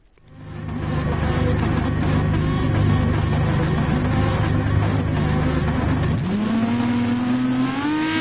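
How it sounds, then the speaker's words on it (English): Several race car engines rev at the start line in a PS4 racing game, a loud sustained roar that swells at the outset, then one engine's pitch climbs sharply near the end. "Revs are up, also loud, waiting for the lights."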